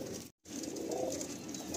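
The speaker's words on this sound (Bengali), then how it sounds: "হ্যাঁ, একদম টেডি পায়রা।" A female Teddy pigeon coos softly and steadily, close by, with a brief gap near the start.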